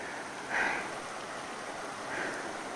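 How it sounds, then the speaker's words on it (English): Steady rushing water from a waterfall and stream on Bristlecone Trail at Mount Charleston, a constant broadband wash heard alone at moderate distance. "I never thought I'd see waterfalls on Bristlecone Trail."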